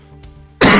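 A couple of big, harsh coughs burst out loud and close at the end, after a quiet stretch with faint background hum.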